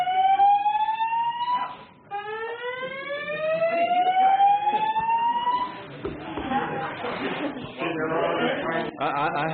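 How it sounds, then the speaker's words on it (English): A fire alarm blares during a live TV news broadcast, rising wailing tones that repeat in sweeps and then give way to a harsher pulsing alarm, loud and continuous, with talk mixed in. "That was a fire alarm going off."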